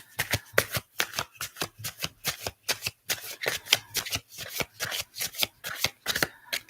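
Tarot cards shuffled by hand in a steady, quick rhythm of crisp riffling snaps, close and clear, about three per second, with no talking over them.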